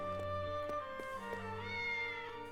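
A cat meows in the Triangle Strategy video game, a drawn-out tonal call sitting over a steady layer of game music, with no voices.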